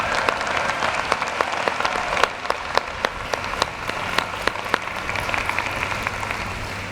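An audience at a graduate school commencement ceremony applauds musicians. Dense, steady clapping from a large crowd fills the room, with a few sharper claps standing out near the front, and no one speaks over it.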